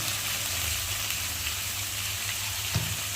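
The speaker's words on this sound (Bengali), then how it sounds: "মশলাটা কড়াই লেগে যায়, নেড়ে নিলাম।" Onion paste, tomato and green chillies fry in a wok for a rohu fish curry masala, giving a steady, close sizzle throughout. A brief scrape of stirring comes near the end.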